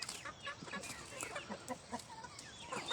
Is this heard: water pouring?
no